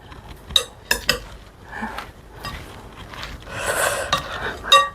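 A spoon tosses taco salad in a bowl, with several sharp clinks against the dish between softer rustling scrapes as the ingredients are turned over, close and fairly loud.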